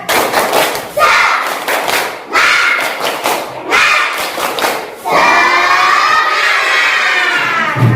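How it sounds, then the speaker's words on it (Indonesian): Classroom children doing a rhythmic spirit clap chant, loud close bursts of unison clapping and shouted chanting in several phrases, ending in a sustained group shout. "Kita tepuk semangat dulu ya, biar tambah semangat."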